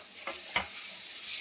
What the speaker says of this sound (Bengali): এবার এই তেলের মধ্যেই কি করব, একটু ডাঁটাগুলোকে ভেজে নেব।